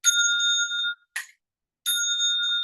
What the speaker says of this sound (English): So the bells for that would be bong, clack, bong, right?